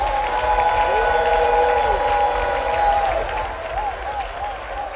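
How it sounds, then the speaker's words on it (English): A crowd applauds at a political party manifesto launch in Ghana, broad sustained clapping with a musical tone and voices layered over it, easing slightly toward the end. "a rousing round of applause for the Right Honorable Speaker of Parliament, Aban Sumana Bagbe"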